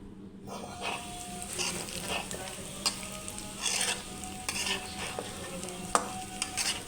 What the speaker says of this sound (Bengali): কড়াইতে তেল দিয়ে ডাল আর সব মশলা দিয়ে ভালো করে ডালটা